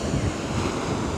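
Ocean waves at the beach at sunrise, a dense, loud roar of surf mixed with wind buffeting close to the microphone, continuous through the short stretch.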